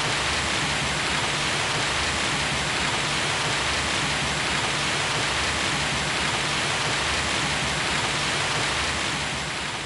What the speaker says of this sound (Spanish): está lloviendo muchísimo